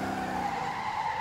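Tyres skid and squeal as a car drifts with its rear sliding out in the driving game Motor Town, a steady sustained screech over engine drone lasting about a second.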